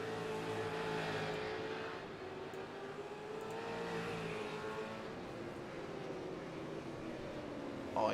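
V8 touring race cars lap a circuit and come down a hill, their engines droning steadily in the distance with a rising and falling pitch as they pass, moderately loud with no talk.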